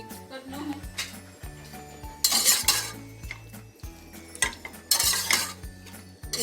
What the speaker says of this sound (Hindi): आपने इसको डाल के तो अब मिक्स करना है।